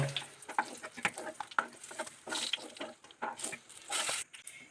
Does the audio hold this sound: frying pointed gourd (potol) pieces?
yes